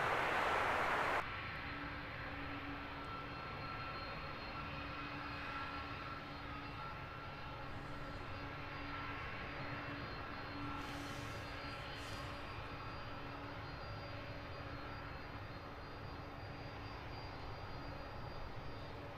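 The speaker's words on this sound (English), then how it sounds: "As we watch the DHL A300 Beast taxiing for departure." A DHL Airbus A300 taxis for departure at Luton Airport, its jet engines giving a steady, distant whine and roar that carries on without a break over a constant low rumble.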